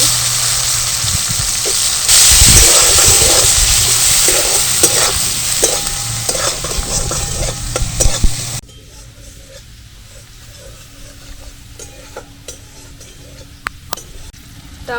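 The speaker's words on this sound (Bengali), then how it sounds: "কুচো করা টমেটো দিয়ে দেবো" Chopped tomatoes hit hot oil with fried spices for achari aloo dum, giving a loud sizzle with repeated stirring scrapes that drops to a quieter simmer after about eight seconds, with a few sharp utensil clinks.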